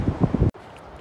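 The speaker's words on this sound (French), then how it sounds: "Il y a beaucoup de vent là." Strong gusts buffet the microphone on seaside cliffs. A loud, rough rumble cuts off abruptly and leaves a faint hiss.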